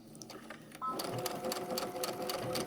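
A sewing machine stitching the corner seams of a quilt, its rapid needle chatter starting after a short pause and running steadily and close for a couple of seconds.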